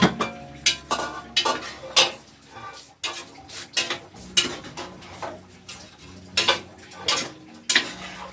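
A metal spoon stirs pepper into shrimp cooking in a pan for arroz valenciana, making repeated sharp scraping clanks against the pan at an irregular rhythm, loud and close.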